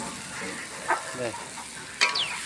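Food lightly frying in a pan at an outdoor picnic, a soft sizzle broken by a few brief stirring scrapes and a sharper clatter near the end.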